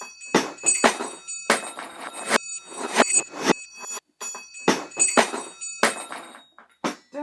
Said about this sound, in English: Do you like my bell collection?